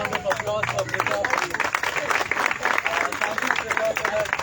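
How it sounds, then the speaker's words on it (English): An audience at the inaugural ceremony of the third GHAG walk fest in Goa applauds a speaker with scattered, moderately loud clapping and murmuring voices from the crowd beneath it. "Can we please have another round of applause for Prita?"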